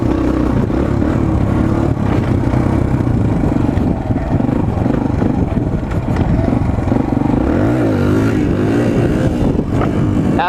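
Suzuki DR-Z 125L motorcycle being ridden, its small single-cylinder engine droning loudly and steadily close by, pitch rising and falling as the rider accelerates and shifts, with wind rumble.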